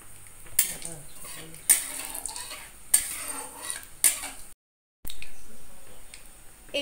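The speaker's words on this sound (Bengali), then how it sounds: "এবার ফোড়নটাকে খুন্তি দিয়ে একটু নাড়াচাড়া করে নেব।" A metal spatula scrapes and stirs a black cumin (nigella seed) tempering in hot oil in a wok while teasel gourd bharta is being made. About four sharp, rhythmic scraping strokes land close by, then there is a short pause and softer clatter.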